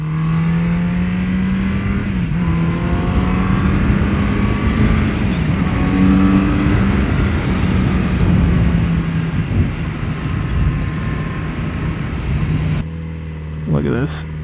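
A Kawasaki Z900RS motorcycle cruising on a ride, its engine giving a steady loud drone with harmonic hum throughout, wind rushing past, a slight shift in tone near the end.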